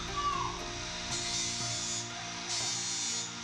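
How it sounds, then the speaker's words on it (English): A flap disc on an angle grinder rounds over the crossguard of a wooden katana, its steady whine broken by two bursts of harsh, hissy sanding as the disc bites into the wood. "I also used the flap disc to round over the crossguard."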